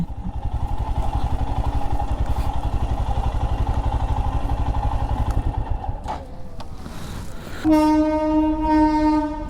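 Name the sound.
train passing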